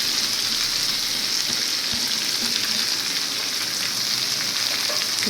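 Spinach leaves sautéing in a pan for palak paneer bhurji, a dense continuous hiss of frying, loud and close, with a faint tap or two from the pan and no talking.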